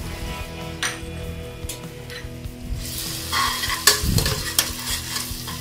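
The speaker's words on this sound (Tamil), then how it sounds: "சேர்த்து அதையும் பச்சை வாசனை போகிற அளவுக்கு நல்லா வதக்குறேன்." Green chillies, coriander and mint sautéing in a pan for paneer pulao. A steady sizzle runs throughout, with stirring scrapes and a few sharp utensil clinks near the end, close and fairly loud.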